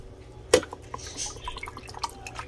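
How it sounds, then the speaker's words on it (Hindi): A little water poured into a blender holding avocado sauce ingredients such as salt, black pepper and lemon juice, a sharp splash followed by faint drips and trickles in a quiet kitchen. "और थोड़ा सा पानी"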